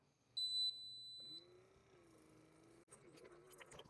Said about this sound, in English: by pressing on the temperature button, and it beeps at you when you press